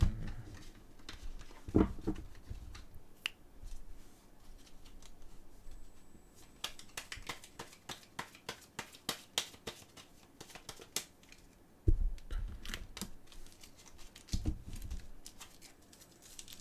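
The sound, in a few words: shuffling tarot cards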